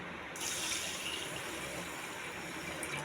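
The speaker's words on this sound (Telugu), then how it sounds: "ఒక గ్లాసు వాటర్ వేయాలండి." A glass of water poured into a pot of millets gives a steady, close, gushing splash for about three seconds, even in level and free of talk.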